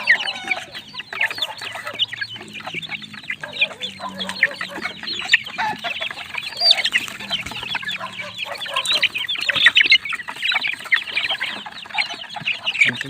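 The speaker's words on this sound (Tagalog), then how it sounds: "Mga kaibigan, nabigyan na po natin patuka at mga sisiw sa kanilang labangan o patukaan." A crowd of chicks peeps and chirps busily at a feeding trough while eating feed, a dense, continuous chatter of high calls close by.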